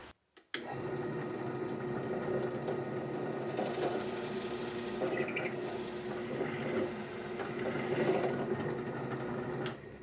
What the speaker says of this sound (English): I'm drilling straight in the center of the small side of the mortise